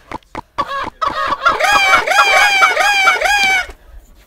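A burst of loud, electronic-sounding chicken squawks and clucks, a Clash Royale chicken emote repeated in quick succession after a few short taps, close and bright.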